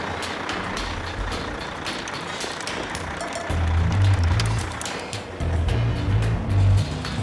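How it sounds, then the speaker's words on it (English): A heavy lead truck hauling a house rolls slowly across a frozen lake, its deep engine rumble steady at first, then swelling louder and closer midway with throaty low growls, faint high hiss above. "and is driving the lead truck"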